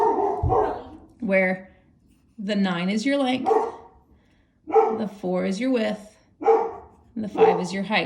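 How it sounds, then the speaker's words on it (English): A dog barks intermittently in the background, its barks overlapping a person explaining a geometry formula in steady speech. "I apologize for the dog in the background."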